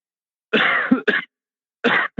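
Three harsh coughs, close and loud: a long rasping one, a short second burst, then another after a pause.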